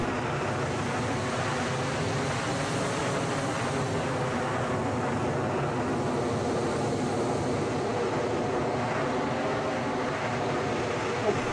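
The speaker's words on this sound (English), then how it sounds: "I can turn on the afterburner before I'd even take off." A jet plane's afterburner roars steadily during takeoff in the video game Arma 3, a dense, unbroken rushing drone holding at an even level throughout.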